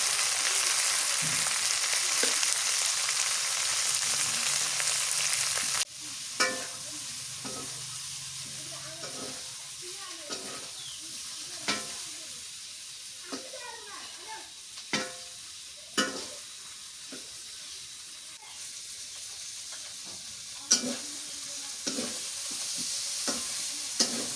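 Sliced pointed gourd (potol) fries in oil in a pan, a continuous close sizzle broken by repeated scraping stirs and small clacks of a spatula.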